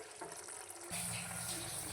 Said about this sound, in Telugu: ఇప్పుడు పులుపు వేస్తున్నానండి.